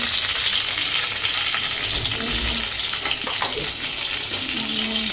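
Curry leaves, mustard seeds and cumin hit hot oil for veg fried rice, a loud continuous crackling sizzle with a few pops and stirring sounds, and faint background voices.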